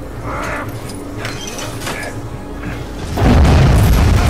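A heavy boom as an object is smashed in the Lego Batman 3: Beyond Gotham video game on PlayStation 4, a loud burst of crunching debris that swells and holds at the end of the clip, following a stretch of quieter game sound.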